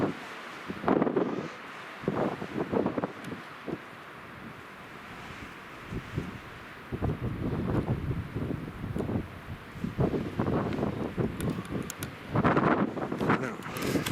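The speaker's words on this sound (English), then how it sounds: "there's nothing in this world that could enjoy that wind" Strong, cold wind on an exposed ridge buffets the microphone in gusty, rumbling bursts that rise and fall. A voice talks intermittently over the wind.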